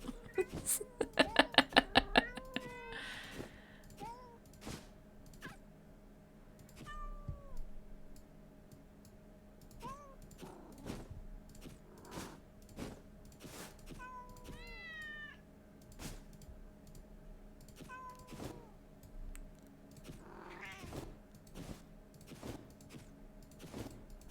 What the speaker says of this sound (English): I love all the different cat sounds.